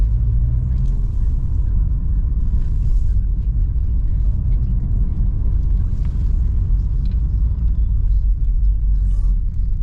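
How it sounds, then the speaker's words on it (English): Steady low rumble of traffic on a busy road, continuous and fairly loud for the whole stretch, with no individual passes standing out. "Because this is a busy road, but this isn't the solution to anything"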